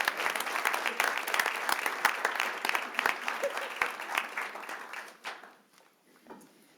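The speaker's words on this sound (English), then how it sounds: "let's give a big round of applause to all the recipients" Enthusiastic applause from a sizable audience at a city council meeting, dense steady clapping that carries on for several seconds before thinning out and fading away.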